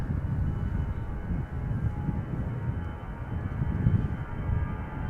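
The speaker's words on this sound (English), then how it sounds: "Lufthansa, flight 989, going to Frankfurt," Lufthansa Airbus A319, about 27 years old, departing Schiphol Airport for Frankfurt, gives a steady low rumble of distant jet engines that holds at an even level throughout with no voices.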